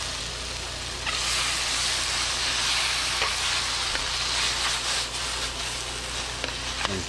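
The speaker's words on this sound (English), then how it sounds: "cook that together just for a minute or two so the pasta can absorb the sauce" Pasta tossed with a rustic red sauce of pork and mushrooms, simmering in a pan: a steady close sizzle and bubbling with occasional scraping stirs, fairly loud and even throughout, no talking.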